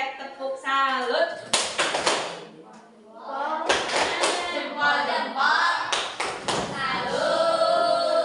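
A school class claps together in a short patterned rhythm, sharp bursts of hand claps separated by voices chanting and talking between them.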